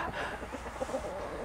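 Roosters clucking and calling at each other at close range, short soft clucks and murmurs over a steady farmyard background.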